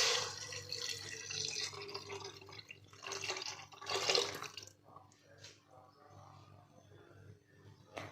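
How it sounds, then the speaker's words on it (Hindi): Chicken stock poured into a pot of chicken and vegetables for hot and sour soup, a quiet splashing pour that swells and fades over several seconds before trailing off into small drips. "अब मैं इसमें चिकन स्टॉक ऐड कर दूंगी"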